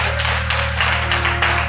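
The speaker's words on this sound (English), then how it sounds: "want to give the Lord a hand clap" A church congregation clapping their hands during a sermon, a continuous, moderately loud patter of many overlapping claps over a steady low hum, with no pause.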